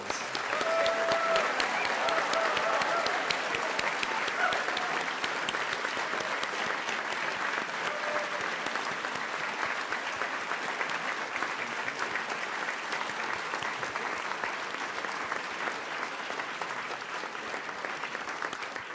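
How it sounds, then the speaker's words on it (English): A ceremony audience gives long, steady applause for the swearing-in of a new Supreme Court Chief Justice, with dense, even clapping lasting close to twenty seconds without a break. "let's give her a round of applause"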